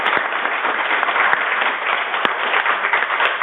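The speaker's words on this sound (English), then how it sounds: "I want to give a round of applause." Audience applause closes a nursing clinical decision support governance program: steady, dense clapping from a room of listeners, fairly loud and even throughout, with no voices over it.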